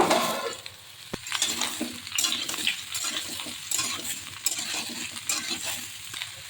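Cut mango pieces are stirred into hot oil with dried red chillies, a close, continuous sizzle with scraping spoon strokes and a sharp metallic clink near the start.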